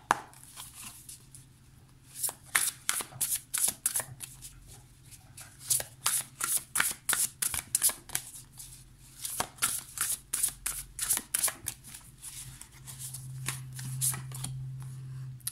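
Beautiful Creature Tarot cards being shuffled by hand, a long run of crisp riffling bursts in quick rhythmic flurries, close and fairly loud, with no talking.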